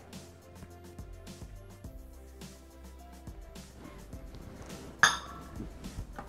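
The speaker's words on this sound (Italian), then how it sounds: "chiudiamo con il coperchio e il misurino" A Thermomix lid shuts over the bowl and the measuring cup drops into place with glassy clinks and plastic knocks, one sharper click standing out near the end, close and alone.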